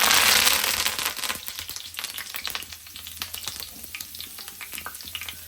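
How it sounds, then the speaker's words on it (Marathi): Curry leaves crackling and spitting in hot oil, ready for frying bombil (Bombay duck), with a loud burst at the start that eases into steady close sizzling and scattered pops. "सगळ्यात पहिलं आपल्याला तेलामध्ये टाकायचं आहे कढीपत्ता"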